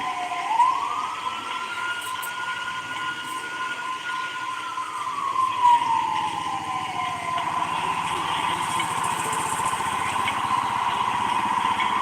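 An ambulance siren wails once in a long rising-and-falling sweep, fairly distant, over steady street noise during Gen Z demonstrations in Kenya.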